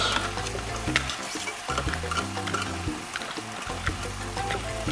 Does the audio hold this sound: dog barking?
no